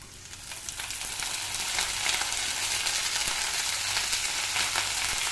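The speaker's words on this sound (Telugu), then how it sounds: "పచ్చిమిర్చి ఫ్రై చేసుకోవాలి. తర్వాత ఇలా కడిగి పెట్టుకున్న వంకాయలు కూడా వేసేయాలి." Green chillies and washed brinjals frying in a pan, a loud, continuous sizzle that builds in the first second and then holds steady and close, with no talking.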